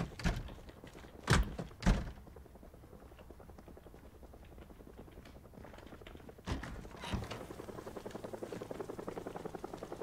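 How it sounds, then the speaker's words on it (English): In the Project Zomboid video game, a helicopter's rotor chops as a faint, steady rhythmic pulse that grows more distinct toward the end, with a few loud thumps and clicks near the start and midway. "Helicopter."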